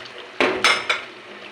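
Laing ingredients being stirred in a cooking pot: three quick, close metallic clinks of a utensil against the pot stand out over a quiet background.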